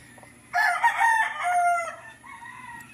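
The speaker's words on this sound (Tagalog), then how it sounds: "Ang ingay ng mga manok." Roosters crowing at around six in the morning at a rural home, with one loud, close crow carrying through, then a fainter call trailing off over quiet background noise.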